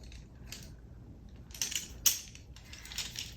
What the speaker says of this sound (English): You can remove this pin, get it to the correct length.